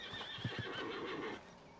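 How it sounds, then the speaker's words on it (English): A horse in the video game Red Dead Redemption 2 gives a short, shrill whinny, close by and brief, with a soft snort and a few hoof sounds. "Need a hand with that horse?"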